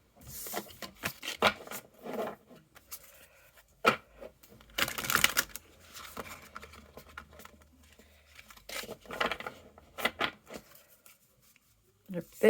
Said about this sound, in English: they were a bit grabby then when I first started shuffling them